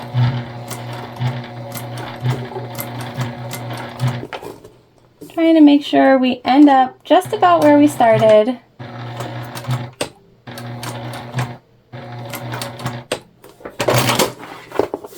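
A sewing machine stitches a bag in several runs of steady whirring, broken by pauses, with a back stitch; someone talks between the runs and a sharp clatter comes near the end.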